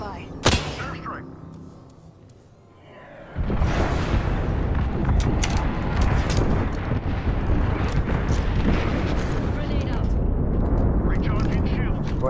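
Airstrike explosions in the Apex Legends video game, a loud sustained barrage of booms and rumbling blasts rolling in after a quieter opening with a sharp crack.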